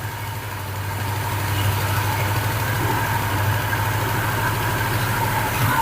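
Engine idling with no exhaust manifold fitted, a steady low rumble with a faint mid-range tone, running continuously at even volume close by, with no talking.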